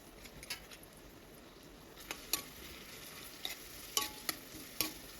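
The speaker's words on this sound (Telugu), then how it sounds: "ఈ ఆనియన్స్ అండ్ మిర్చి పచ్చివాసన పోయే వరకు ఆయిల్లో వేయించుకోవాలండి" Chopped onions and green chillies fry softly in oil, a quiet sizzle under sharp, scattered clinks of a spatula or spoon stirring against the pan.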